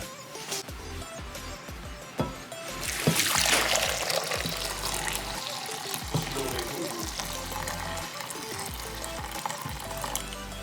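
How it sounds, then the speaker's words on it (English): Hot water poured into a bowl of lime jello mix, a close splashing gush that starts a few seconds in and carries on steadily, with some light handling knocks around it. "I'm going to add 3 cups of just hot water."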